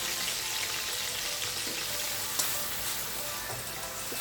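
Leftover fish marinade hits a hot pan for an island-style stewed fish, giving a loud, close, continuous sizzle and crackle with a sharp pop near the middle.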